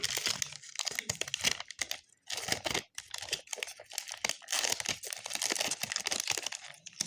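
A football sticker packet is torn open and crinkled up close, with irregular bursts of ripping and crackling foil-like wrapper noise and brief pauses between handfuls.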